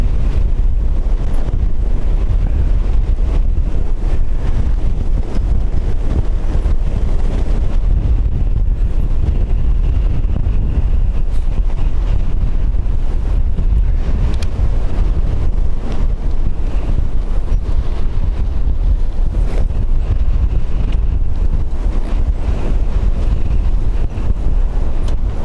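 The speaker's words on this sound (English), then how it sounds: "Katie, it's still fairly windy, as you can probably hear over the microphone." Strong gusting wind of around 26 knots buffets an outdoor microphone at an airport, a loud, continuous roaring rumble that never lets up for the whole stretch.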